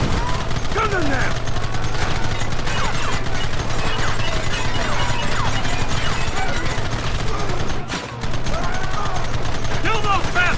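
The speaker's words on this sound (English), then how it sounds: "Stop shooting at me!" A dense, continuous shootout in the video game Red Dead Redemption, with rapid overlapping gunshots from many guns, loud and close, broken by a brief lull before the firing resumes, and voices shouting over it.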